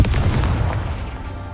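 A Confringo fire spell from Hogwarts Legacy lands with a heavy, booming burst: a close, loud thump of low rumble that quickly decays into a dull, lingering roar.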